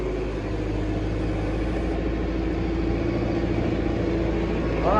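A Tümosan 8195 tractor plowing with a Doğanlar five-furrow plough drones loudly and steadily close by, with a low rumbling throb and no voices over it.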